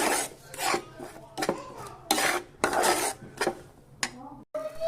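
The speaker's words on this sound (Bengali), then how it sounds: "এখন এগুলা সব একসঙ্গে নেড়ে দিব" A spoon stirs a sticky powdered-milk batter for puli pitha in a pot, making repeated rasping scrapes against the metal in an uneven rhythm, close and fairly loud.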